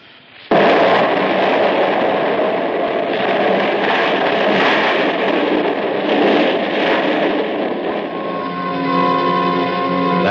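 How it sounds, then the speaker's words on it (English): A dynamite blast from a radio drama fills the clip: a sudden loud roaring explosion bursts in, then rumbles on with dense noise for about ten seconds, fading into a ringing, whining tail. "the dynamite was going to go off because I wasn't outside to stamp out the fuse"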